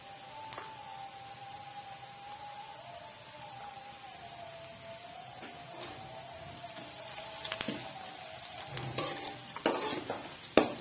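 Onions frying noisily in hot oil in a pot as turmeric powder is stirred in for a black chana curry, a soft steady sizzle with occasional louder scrapes and clinks of stirring toward the end.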